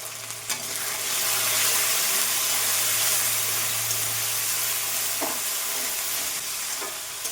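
Salt, turmeric and Kashmiri chili powder sizzle steadily in hot oil for shol fish kalia, a dense continuous frying hiss throughout, with a couple of faint stirring clinks near the end and no talk.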